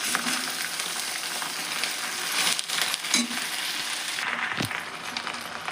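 Amaranth greens (harivi) frying in oil in a pan, a continuous crackling sizzle with occasional stirring scrapes and a sharp clink near the end, no talking.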